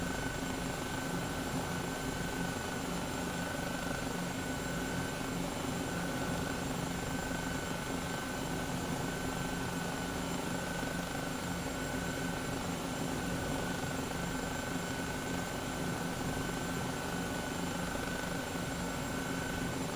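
Helicopter in Microsoft Flight Simulator flying steadily, a continuous droning engine and rotor hum with a constant high whine, unbroken and alone at a moderate level throughout.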